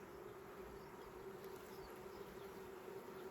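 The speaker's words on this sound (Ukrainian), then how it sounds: "Ще ось бджола виходить" A soft, steady buzz of a bee hums close by, faint and continuous for a few seconds with no talking.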